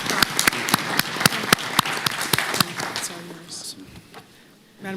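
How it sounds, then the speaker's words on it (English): People at a county commission meeting give a round of applause, sharp rhythmic claps up close that thin out and fade within a few seconds, with faint voices toward the end. "Let's give Scott and the team a round of applause."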